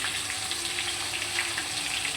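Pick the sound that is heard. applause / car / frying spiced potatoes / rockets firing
frying spiced potatoes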